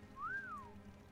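A single whistle from the video game World of Warcraft rises smoothly, peaks and then glides back down over about a second. It sounds clear and moderately near above a soft, steady background hiss, with no speech.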